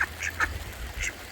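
Several small, healthy ducks quack in a few short, close bursts spread across a brief moment, with a low background rumble and no talking.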